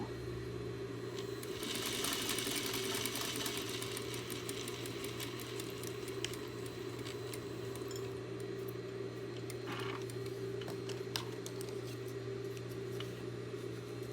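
A sewing machine stitches fabric pieces for a cube, humming steadily with a fast needle rattle throughout, close and fairly quiet, with a couple of small clicks along the way.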